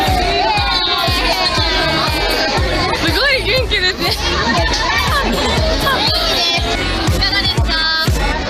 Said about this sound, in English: Look at the crowds, everyone's getting hungry.